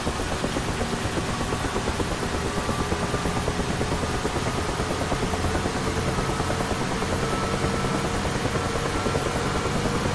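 A UH-1H Huey helicopter engine in a flight simulator runs steadily as the throttle opens and rotor RPM builds, a constant loud turbine drone with rhythmic rotor thrum throughout, no voices.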